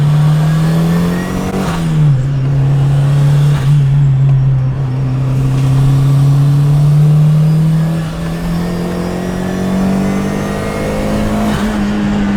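A car engine idles close by with a steady, even drone, its pitch creeping slightly higher as it warms up, with no one talking over it.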